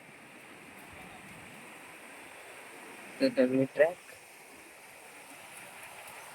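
Water rushes steadily at Palasdhari waterfall as a soft, continuous distant wash, with a brief burst of nearby speech midway.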